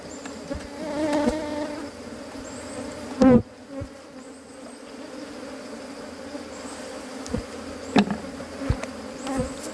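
Wild cavity-nesting honeybees swarm and buzz steadily close by while their comb is cut, with a few sharp knocks and handling noises scattered through the hum.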